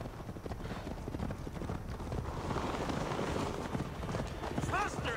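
Horse hooves gallop in a steady rapid clip-clop beneath continuous game background noise and voices in Assassin's Creed Valhalla, with the rhythm holding throughout at moderate loudness.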